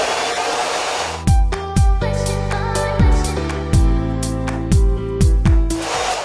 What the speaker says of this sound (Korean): 드라이기로 머리를 털면서 말려주세요.